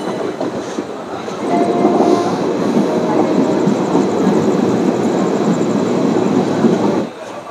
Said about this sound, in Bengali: তো বন্ধুরা ছেড়ে দিল আমাদের ট্রেন নিজের যাত্রাপথে।